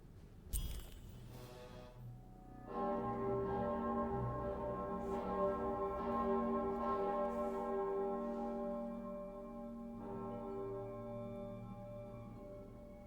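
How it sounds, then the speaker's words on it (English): A bell rings in the video game Lost in Random: a sharp strike followed by a rich, sustained ringing tone that swells and lingers for several seconds, fading slowly with a second softer toll near the end. "which one of you pranksters rang the bell?"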